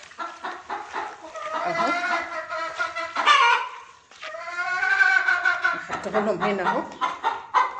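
Chickens cluck and call close by while being fed a feed mix of bran, answering a farmer who speaks over them throughout.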